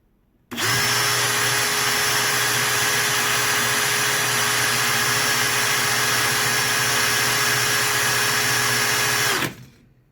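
A Milwaukee FPD3 cordless percussion drill spinning in second gear, one steady high-pitched whine of about nine seconds, close and loud, starting and stopping abruptly, with no talking.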